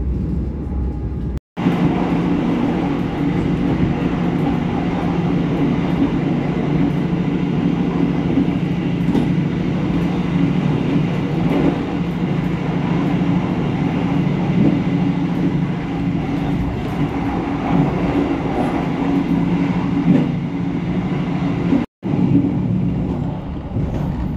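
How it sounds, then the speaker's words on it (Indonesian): An Argo Bromo Anggrek passenger train rolls steadily along the rails, curving left and passing Gubuk station without stopping, a loud continuous rumble with rhythmic clatter that lasts throughout, near and unbroken apart from two brief dropouts. "kereta api Argo Bromo Anggrek ini berbelok ke arah kiri"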